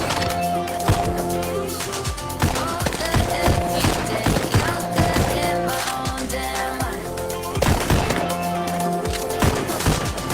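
In the VR rhythm shooter Pistol Whip, repeated gunshots and bullet impacts crack over a driving music track, arriving in quick clusters throughout.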